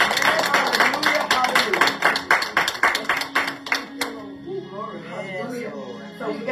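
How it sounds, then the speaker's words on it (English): Church congregation clapping in praise, a run of crisp rhythmic hand claps for about four seconds, then fading as voices call out and talk. "Can you just give it a hand clap of praise?"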